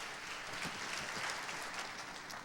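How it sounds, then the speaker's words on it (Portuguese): A church congregation bursts into sustained applause during a Portuguese-language sermon, a dense, even wash of clapping heard alone at moderate volume throughout. "mais uma salva de palmas para Pedro e Tiago"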